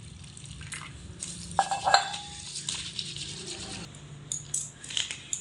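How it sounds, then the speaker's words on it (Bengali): Flattened rice (chira) being rinsed with water in a plate, with soft sloshing and several sharp clinks of the metal plate, one cluster of louder knocks near the middle, close and fairly quiet throughout. "চিড়েটাকে দুই থেকে তিনবার জল পাল্টে পাল্টে ধুয়ে নেব"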